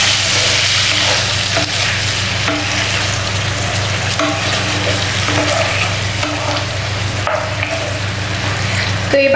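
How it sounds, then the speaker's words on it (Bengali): Cauliflower and potatoes fry with spices and a splash of water in a pan, giving a continuous close sizzle broken by occasional scraping stirs. "এবার একটুখানি জল দিয়ে ফুলকপিটাও আলুর সাথে একটু কষিয়ে নেব।"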